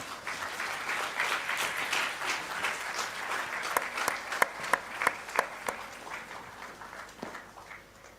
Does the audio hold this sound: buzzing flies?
no